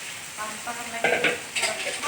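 Blended onion and dried chili paste hits hot oil in a wok for nasi lemak sambal, giving bursts of loud sizzling and spluttering along with a spatula scraping and clanking against the pan.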